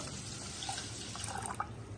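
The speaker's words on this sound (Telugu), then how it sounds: "మూడు గ్లాసులు వాటర్ పోసి ఒక పావు టీ స్పూన్ నెయ్యి వేయాలి" Water poured over washed basmati rice in a cooker, a soft steady trickle with faint splashy accents, low and continuous, no voices.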